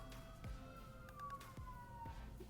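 A distant siren wails with a slowly falling pitch, faint and far off, with occasional soft knocks nearby.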